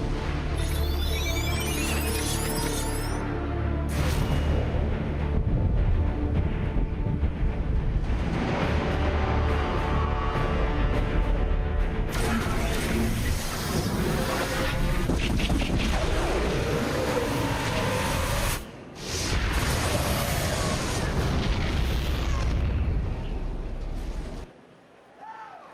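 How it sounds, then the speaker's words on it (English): Orbital strike bombardment in StarCraft II: Legacy of the Void, fired from the Protoss Spear of Adun, rolling in as loud, dense explosive rumbles and booms that keep going for a long stretch, with short breaks and a final cutoff. "Prepare for orbital strike."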